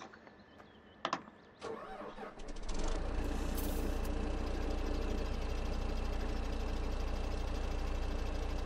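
A truck engine in Farming Simulator 17 starts up and settles into a loud, steady rumbling idle after a few clicks and clunks.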